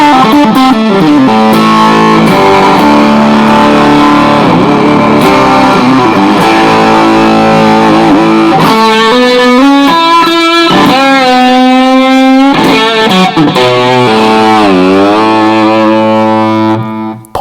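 Electric guitar runs through a Rocktron Chameleon 2000 distortion preset, producing loud, sustained saturated chords and sliding notes that ring out continuously before cutting off abruptly at the end.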